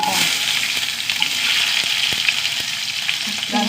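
Mustard seeds, dried red chillies and curry leaves frying in hot oil, giving a steady close crackling sizzle with sharp pops scattered throughout, no voices.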